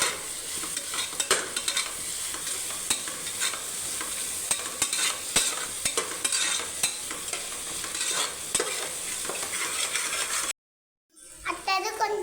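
Onions with a little salt frying for egg biryani and being stirred in the pan, a constant close sizzle with repeated scraping strokes, dropping to a brief silence near the end before faint sound resumes.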